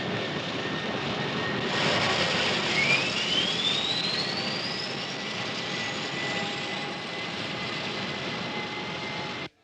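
Jet airliner engines of Consolidated Flight 22 drone steadily in flight as a radio-drama effect, a continuous broad roar with a thin whine rising in pitch, before the sound cuts out sharply at the end.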